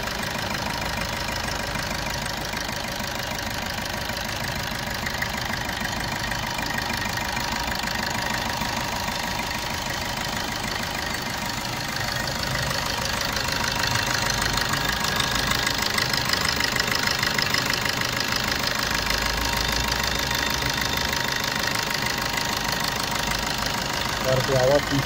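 A Suzuki Swift diesel engine idles after a timing chain replacement, a steady close rumble with a knocking diesel clatter that grows slightly louder halfway through, while someone talks over it.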